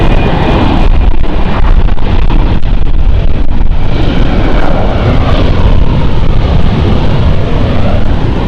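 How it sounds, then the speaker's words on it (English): An old Airbus A321 roars through reverse thrust while landing at Lisbon Airport, a loud, steady, broadband engine rush with wind buffeting that holds throughout and carries no talk. "Do you like reverse thrust on an old Airbus A320, 21 I should say."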